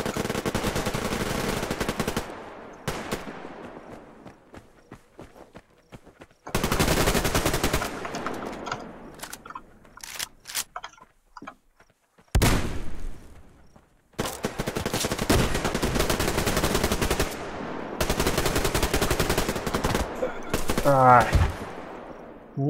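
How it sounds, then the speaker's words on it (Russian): Gunfire in the online shooter Survarium, with long loud bursts of machine-gun fire that alternate with quieter gaps and scattered single shots during a team battle. "клык с той стороны стреляет"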